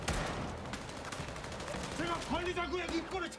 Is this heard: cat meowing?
no